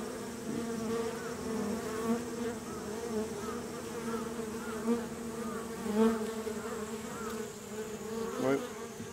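Swarm of Japanese honey bees (Apis cerana) droning steadily around an opened hive as it is worked, a dense continuous buzz with a few louder swells as bees pass close.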